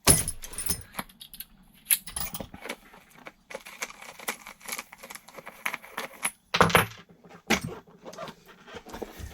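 Metal tool clatter and jangling knocks as a wrench works a 17mm hex wheel nut loose on an Arrma Outcast 4S V2 RC car on a repair bench, with sharp bursts and scattered clinks, close and moderately loud.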